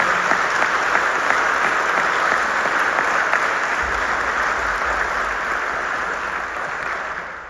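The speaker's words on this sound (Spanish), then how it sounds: "queremos de nuevo otro aplauso cálido para todos" Warm, sustained applause from the audience at a book presentation, dense clapping that holds steady for several seconds before slowly tapering off.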